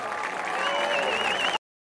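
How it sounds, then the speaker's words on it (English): Crowd applause for a high school marching band at a ceremony, a brief steady wash of clapping with a sustained tone over it, cut off abruptly. "Please give a warm round of applause in congratulating your Highlander Marching Band"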